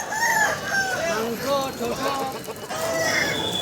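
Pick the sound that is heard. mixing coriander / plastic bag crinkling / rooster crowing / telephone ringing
rooster crowing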